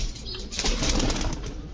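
Homing pigeon arriving at the loft, a short flurry of wing flapping with soft cooing, close and continuous.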